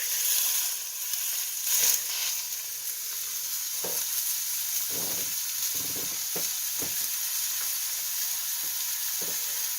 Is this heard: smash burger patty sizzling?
yes